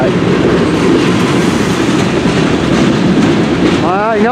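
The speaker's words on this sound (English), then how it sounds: "We're seeing an M384 northbound train." A CN M384 freight train heading north through Port Huron, Michigan, rolls past close by with a steady, loud rumble and clatter of railcars, and wheels squeal briefly near the end.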